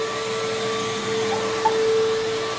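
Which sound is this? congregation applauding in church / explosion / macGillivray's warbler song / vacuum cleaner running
vacuum cleaner running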